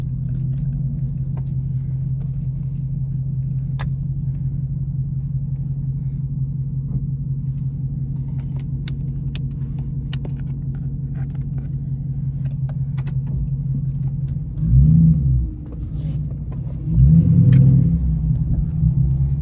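Low, steady engine rumble from a widebody Dodge Charger RT pursuit car with AWD, driven late at night downtown, holding a constant drone with two brief louder surges near the end.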